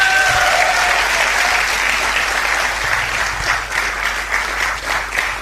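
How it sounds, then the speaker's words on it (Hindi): A large audience at an Amway motivational event claps steadily and loudly throughout, a dense continuous wash of applause with no clear speech on top. "जोरदार तालियां स्वागत करें।"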